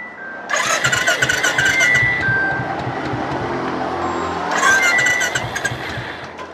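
A second-hand sports motorcycle fitted with a Globe aftermarket silencer fires up, the starter whirring into a sharp, loud exhaust burst that settles into a rumbling idle, then revs up again near the end, close to the microphone.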